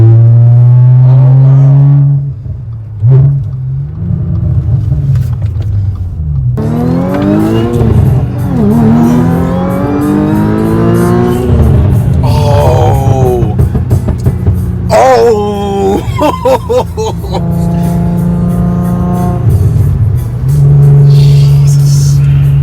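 A sports car engine revs repeatedly with its exhaust valves open, loud rising and falling bursts close by, while people talk and react excitedly over the noise.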